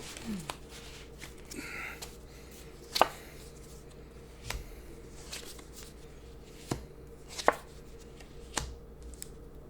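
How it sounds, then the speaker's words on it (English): Tarot cards being shuffled and riffled in short bursts, with soft slaps and taps at irregular intervals over a quiet room. "I've been entrusted with the shuffling and I'm already failing."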